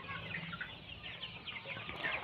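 Chickens and roosters on a poultry farm, many birds clucking and chattering together in a continuous soft flock murmur heard from nearby.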